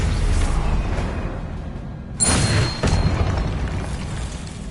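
Spell blasts in the Hogwarts Legacy video game, a loud booming burst mid-clip over a dense rumbling battle bed, with whooshing tails and no voices.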